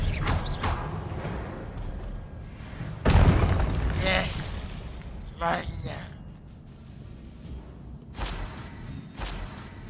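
A spell cast in the video game Hogwarts Legacy, heard as a sudden booming burst with a whooshing sweep, followed by shorter magical pops and crackles over a rumbling game soundscape, while a voice speaks.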